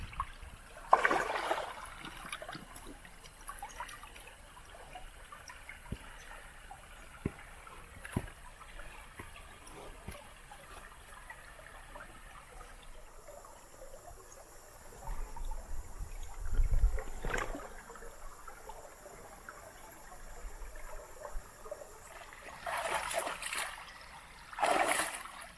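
Water in the fast-moving part of a creek flows near a stone fish trap, a quiet, continuous rushing and trickling with occasional splashes and louder bursts of water noise, with no one speaking.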